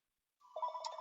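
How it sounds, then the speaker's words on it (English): A mobile phone ringtone begins partway through during a lecture, a bright melodic electronic ring with repeating tones sounding alone in an otherwise quiet hall. "that's my phone ringing, which I forgot to turn off"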